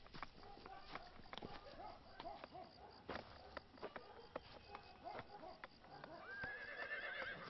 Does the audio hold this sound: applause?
no